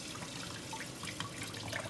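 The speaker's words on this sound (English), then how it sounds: "I'm going to rinse this off." Tap water runs steadily over a pepper being rinsed at a sink, a continuous soft splashing with faint drips throughout.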